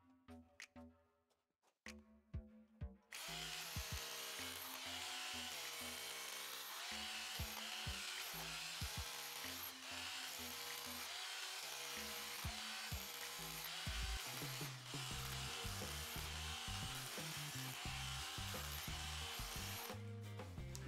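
A few sharp knocks, then a loud rotary hammer starts up and chips concrete continuously with a harsh, rattling grind, close by and without speech.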